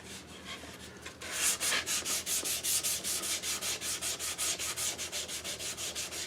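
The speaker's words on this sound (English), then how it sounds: "I've got a little scrap of sandpaper." A scrap of sandpaper is rubbed by hand over a wooden bowl in a woodshop. After a short pause, quick rhythmic strokes follow, about four per second, steady and close.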